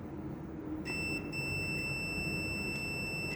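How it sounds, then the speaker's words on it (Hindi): A continuity tester lets out a single steady electronic beep during a wire continuity test on a hand-built electric switchboard, the probes across a fuse and a switch terminal. The tone starts just under a second in and holds unbroken to the end. "ये बीप की साउंड आ रही है।"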